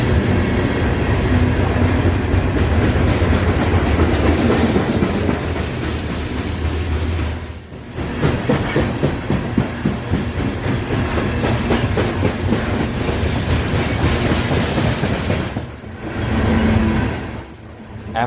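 A CSX coal train of bathtub, bay and RDL hopper cars rolls past near Ackworth, a loud, steady rumble and rattle with rhythmic clickety-clack of wheels over rail joints that dips briefly, then swells again.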